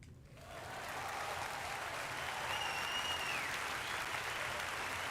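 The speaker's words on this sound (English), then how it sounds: "There was a huge wave of applause." Applause from a crowd in a visual novel scene rises quickly and holds as a steady, moderately loud wash of clapping, with a faint tonal cue sliding in briefly partway through.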